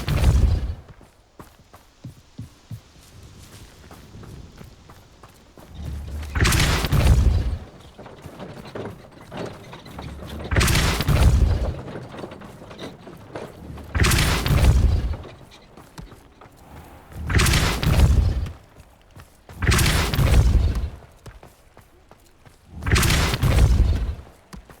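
Depulso spell blasts in Hogwarts Legacy, a series of six loud, booming thumps spaced a few seconds apart, each with a heavy low-end impact over quieter mechanical background noise.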